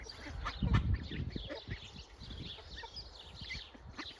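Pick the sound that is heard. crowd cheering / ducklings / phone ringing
ducklings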